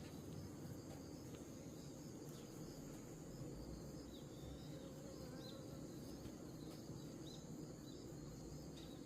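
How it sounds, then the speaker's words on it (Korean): Wasps buzzing around a beehive at close range, a continuous insect drone with small rising whines as individuals fly past, alone without talk. "말벌 새끼가"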